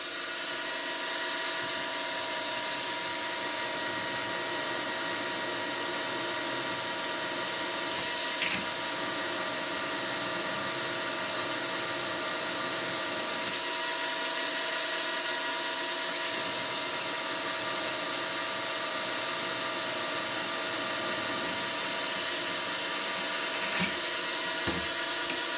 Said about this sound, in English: I am using a stub length drill choked up in a collet, and we're drilling straight through